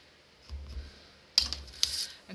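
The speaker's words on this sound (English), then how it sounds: "marked it with a pen" A pen marks a length on card or paper for a handmade hand fan card: a few short, dry scratching strokes up close, quiet at first and then briefly sharper, with no voices.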